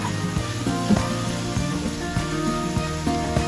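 Chicken mince with spices sizzles hard in a pan, a loud, steady hiss close by, broken by scraping knocks as it is stirred, with no talk.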